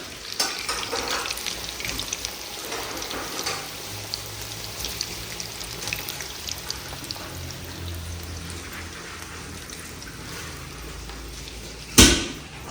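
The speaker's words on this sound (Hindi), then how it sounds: "तो ये जो आलू हमारे डल चुके हैं कढ़ाई में फॉर फ्राइंग" Sliced potatoes fry in hot oil in a kadhai with a steady, bubbling sizzle throughout, some soft stirring and clatter mixed in, and a sharp metallic clank near the end.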